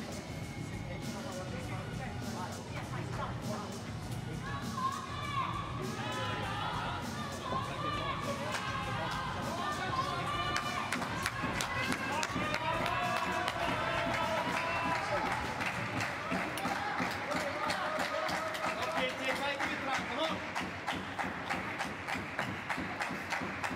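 Chinese and German spectators at a Paralympic table tennis final in Tokyo fill the hall with steady crowd noise, chatter and cheering that swell toward the end, continuous throughout with a commentator talking over it.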